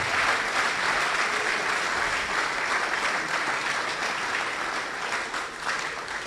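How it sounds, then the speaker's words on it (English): Dense, steady applause from a public lecture audience in Ghana, close and loud throughout, fading slightly toward the end with no speech over it. "So I want you to give our speaker one big round of applause."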